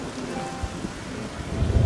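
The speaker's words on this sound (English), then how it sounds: "this rain is so beautiful. Look at the lightning!" Steady rain pours in an in-game rural English village during a storm, with low rumbles of thunder building toward the end, heard alone at a moderate level.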